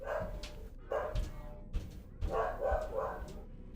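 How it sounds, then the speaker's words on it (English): A dog barking at the doorbell, several sharp barks in quick succession, somewhat distant and a little muffled, with faint background noise between them. "And there goes my dog."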